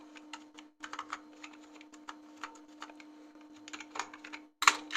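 Keys clatter on a computer keyboard in quick, irregular bursts of close, light clicks over a faint steady hum, pausing briefly before a sharper final tap.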